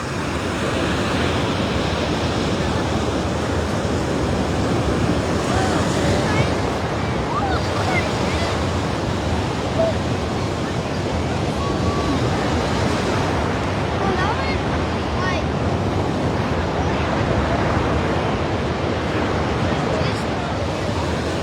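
Ocean surf washes continuously onto a beach during a sea turtle hatchling release, a broad steady roar of breaking waves mixed with wind buffeting the microphone.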